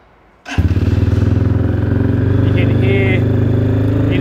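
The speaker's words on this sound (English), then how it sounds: "Hear the engine." A Moto3 motorcycle engine starts abruptly and settles into a loud, steady, fast-pulsing idle close by, with the choke on.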